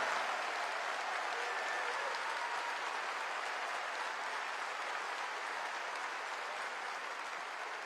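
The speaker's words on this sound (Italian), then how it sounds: "dedicherei un applauso a questa magnifica orchestra" Sustained applause from a large concert audience at the Arena di Verona fills the space for the orchestra, a dense, steady roar of clapping that stays loud throughout and eases only slightly at the end.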